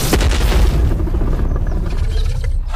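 A loud, deep explosion of magical divine fire in an animated fantasy battle erupts with a heavy boom and rumbling blast that dominates, then slowly thins out as it fades.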